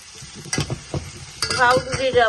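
Onion and bay leaf fry in a hot pan, a sizzle broken by a few sharp clinks and scraping stirs, louder in the second half, with a voice faintly underneath.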